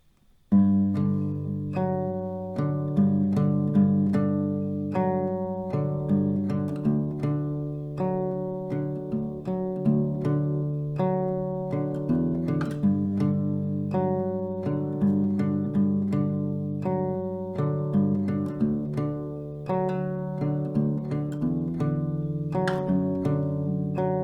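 A guitar plays the melody of a song slowly and steadily, a continuous line of plucked notes over about twenty-four seconds, clear and close with no talking.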